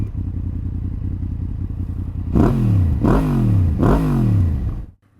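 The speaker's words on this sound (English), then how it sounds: "So let's get the bike started, get underway" A Norton Commando 961 motorcycle idles with a steady low rumble, then revs sharply three times in close succession, each rev rising and falling, before the engine cuts off near the end; loud and close.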